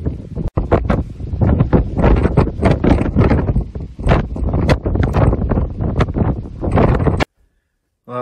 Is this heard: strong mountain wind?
yes